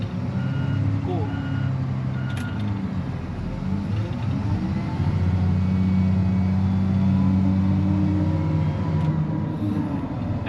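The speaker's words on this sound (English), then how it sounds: "That Cummins sounds good back there too." A Cummins diesel engine powers a brand new LiuGong wheel loader with a leveling bucket, rumbling steadily at a low idle close by while a reversing alarm beeps intermittently and a voice speaks faintly over the drone.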